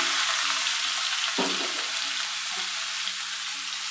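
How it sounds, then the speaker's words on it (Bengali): Onions sizzle in hot oil over a lowered gas flame for a pointed gourd and prawn dish, a constant close hiss, with one sharp stirring knock early on and a faint clink later. "তেলটা গরম হয়ে গেছে, এবার গ্যাসটা একটু আস্তে করে দিয়েছি। এবার এর মধ্যে আমি পেঁয়াজগুলো দিয়ে দিলাম"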